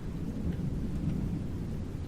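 Steady rain with low rumbling thunder in the game Fallout 4, a dense continuous wash of rainfall and deep rolling rumble, with no voices.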